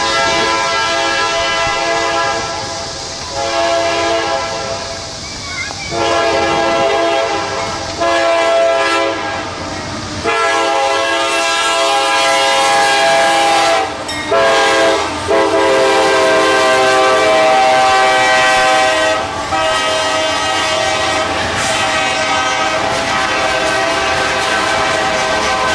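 A passing train sounds its horn loudly and steadily for many seconds, with rumbling wheels and clatter beneath, close by and dominating the scene.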